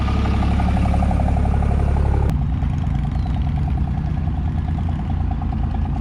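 A black pickup truck idles nearby with an old utility trailer hitched, its engine giving a steady low rumble and rhythmic ticking pulse that holds throughout.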